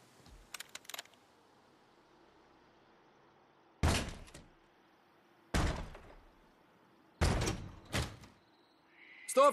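A door in the video game Days Gone opens with a few heavy thunks and scrapes spaced a second or two apart, set against a quiet low ambient hum, with no talk.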